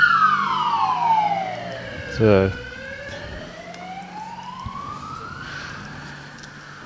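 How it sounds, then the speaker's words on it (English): Emergency vehicle sirens sound outside a multi-disability sports championship. Wailing tones sweep down and up, one passing close and loud with a brief low rumble as others wail farther off. A voice speaks briefly. "Yeah, because we're hearing all sorts of sirens."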